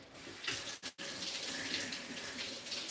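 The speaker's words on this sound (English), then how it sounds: "I am just going to pour the water over this." Water pours steadily over garlic in a kitchen, a continuous rushing stream with one brief break before it resumes, heard alone.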